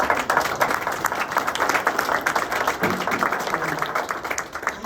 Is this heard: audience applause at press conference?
yes